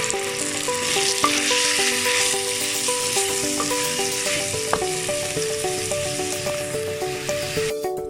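Masala paste with chilli powder for Hogenakkal-style fish curry sizzles steadily in a pan as it is stirred, under soft melodic background music, with no talking.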